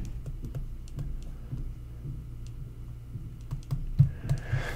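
Numbers are tapped into a calculator for a pecan pie homework problem: a quiet, irregular series of small key clicks over a low room hum, with a few firmer presses near the end.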